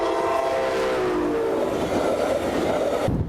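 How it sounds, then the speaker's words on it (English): Loud, continuous rumble of a Brightline train passing close by at a level crossing, with a steady roar and a faint tonal horn-like hum. "between the gates coming down and the Brightline train actually crossing"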